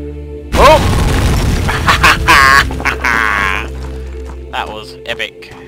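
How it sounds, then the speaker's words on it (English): A booming explosion inside the horror game Amnesia, set off by mixing chemicals, hits loud and sudden with a heavy low rumble that lingers beneath a man's excited exclamations and game sounds. "Make the explosion."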